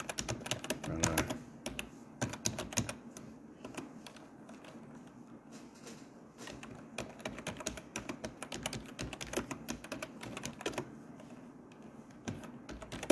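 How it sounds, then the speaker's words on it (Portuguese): Rapid, uneven keystrokes on a computer keyboard that is reported to be working badly, with dense clusters of clicks and short pauses, close up and continuous with no voices. "o teclado aqui tá ruim"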